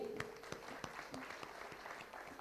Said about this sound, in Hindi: एक मरतबा ज़ोरदार तालियां बजा दें